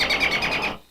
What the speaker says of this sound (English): maybe you want a bird